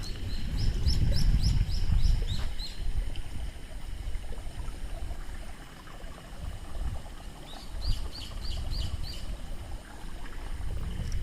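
Birds chirp in short bright bursts in an early morning park in Tokyo under a bridge, repeated trills standing out over a steady low rush of ambient noise and wind.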